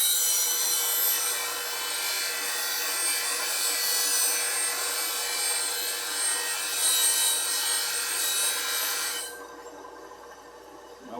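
The tip of a D-Way bowl gouge is sharpened against a grinding wheel, giving a steady, bright abrasive hiss that runs continuously for several seconds and then stops abruptly, leaving quiet room tone.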